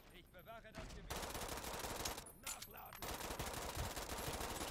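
A mounted gun in the shooter game Brink fires long sustained bursts of rapid automatic shots, loud and close, with brief pauses between volleys and no talk.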